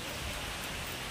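Rain from Cyclone Remal falls in a dense, steady hiss with close drops striking surfaces, continuous and unbroken.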